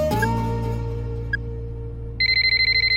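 A mobile phone placing an outgoing call, with a tone followed by a loud repeating ringback pulse starting partway through and continuing steadily to the end, with no talking.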